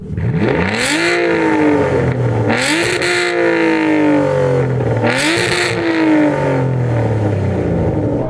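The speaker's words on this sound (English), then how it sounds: "let's do a sound check. Go on, rev yours up." Aston Martin V12 engines revving loudly in repeated bursts, each rising sharply and then falling away over several seconds, close and continuous with no talk.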